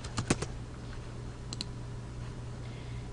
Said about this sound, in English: The easiest way to do this is to type in a name